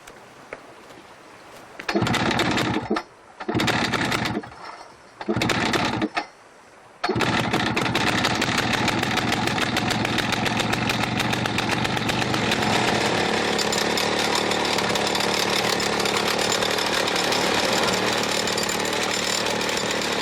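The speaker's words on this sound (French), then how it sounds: "L'équipe va percer le bloc très dense avec un forêt à pointe de diamant." A diamond-tipped drill bores into a dense block of Guatemalan jade, starting in a few short loud bursts before settling into a steady, harsh, high-pitched whine that grinds on continuously.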